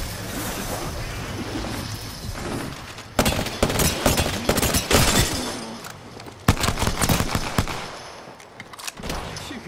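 Gunfire in Apex Legends comes in repeated loud bursts of rapid shots with sharp impacts, close and intense, starting after a rumbling stretch and continuing in clustered volleys.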